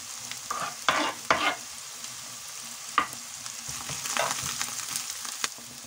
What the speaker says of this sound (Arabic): هنا خديت مقله كبيره غنشحر فيها البصله والثومه